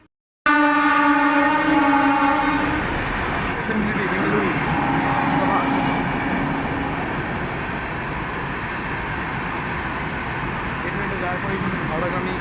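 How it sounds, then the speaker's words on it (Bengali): A train rumbles past close by on the Howrah–Panskura–Digha line, loud and steady for the whole stretch, with a long horn blast sounding near the start. "একটা ট্রেন পাশ দিয়ে যাবে চলো সে ট্রেনটাকে দেখাই"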